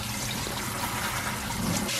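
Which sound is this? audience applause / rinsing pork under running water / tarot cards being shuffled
rinsing pork under running water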